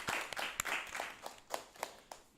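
A small library audience claps before a student's harp performance, several faint separate bursts of hand clapping heard from some distance in a quiet room.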